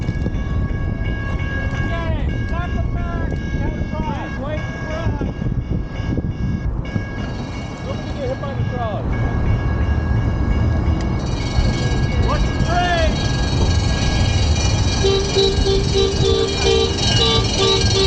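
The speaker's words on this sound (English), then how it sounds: "Never argue with rail vehicles." A train rumbling over rail tracks at a crossing in Portland, Oregon, heard close and loud with steady low roar and metallic squeals, while people on recumbent bikes talk over it.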